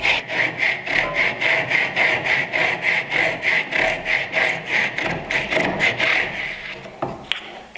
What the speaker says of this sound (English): So I bring the saw along here and I set it along the line that I've established earlier on to create the miter